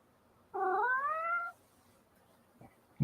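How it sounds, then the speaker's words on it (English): A house cat gives a single drawn-out meow of about a second, close and clear in a quiet room, followed by a couple of faint knocks. "My wife's cat"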